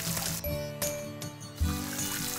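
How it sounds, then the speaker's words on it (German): Watering crops with a watering can in the Story of Seasons farming game, short splashing pours with light clinks between game chimes and tones, close and moderately loud, no talking. "So, wir gießen hier auf jeden Fall erstmal zu Ende."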